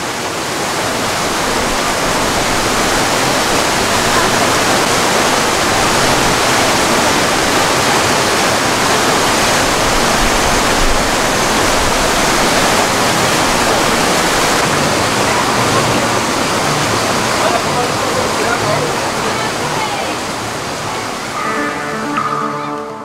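Water rushing steadily at the Robinson treehouse water wheel in Adventureland, Disneyland Paris, a loud, continuous broadband roar like a waterfall that holds unbroken for over twenty seconds.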